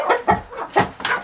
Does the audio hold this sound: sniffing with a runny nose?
no